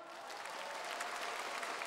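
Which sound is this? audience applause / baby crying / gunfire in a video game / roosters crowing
audience applause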